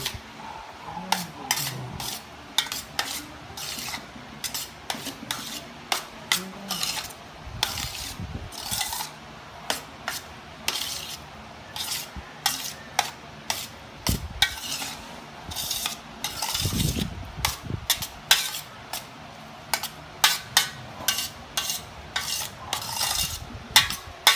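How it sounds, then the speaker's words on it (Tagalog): Utensil stirred and scraped around a pan while cooking, a long run of irregular sharp clinks and scrapes, some quick bursts, fairly close and alone without talk. "Haluin mo mabuti para pantay"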